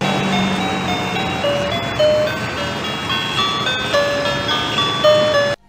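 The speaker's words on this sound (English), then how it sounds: "In Taiwan, you wait to hear the music garbage truck and come meet them out front." A garbage truck in Taiwan plays its melody in the street, bright tonal notes stepping through a tune over steady traffic-like background noise, fairly loud and continuous with no talking.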